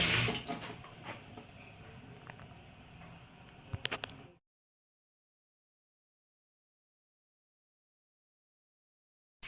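Vegetables for a bitter gourd dish are washed in water with turmeric and salt, soft splashing and swishing with a few light clicks of a bowl, close and quiet, ending abruptly in silence.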